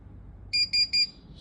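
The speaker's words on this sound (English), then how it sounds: "So it started to beep." A LeStaples S200 Wi-Fi printer beeps during network setup, giving three short, evenly spaced high electronic tones close to the microphone against a quiet room.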